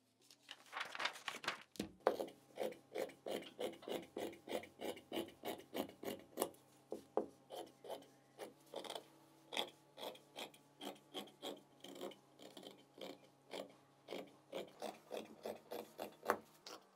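Sweatshirt fabric is cut for the back and front panels with quiet, rhythmic rasping snips, repeating steadily throughout with no voices.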